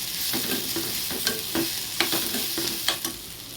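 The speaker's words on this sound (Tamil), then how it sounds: "நல்லா கோல்டன் ப்ரௌன் கலர் வர வரைக்கும் நல்லா இதை வதக்கிக்கோங்க" Onions sauté toward golden brown in a pan for tuna fish masala, a continuous sizzle broken by rhythmic spoon scrapes and taps about every half second, close and clear.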